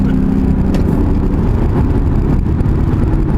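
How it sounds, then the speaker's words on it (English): A loud, steady engine drone of a 2018 Ford Fusion Sport, piped through the cabin speakers, fills the cabin, a deep rumbling hum with slight variation, no talking. "you could probably hear the speaker piping of the engine noise through the speakers"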